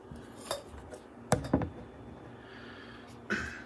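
A metal pan is pulled out and set down in a quiet kitchen, giving a few sharp clanks and rattling knocks of cookware against cookware, spaced out over a few seconds with no talking.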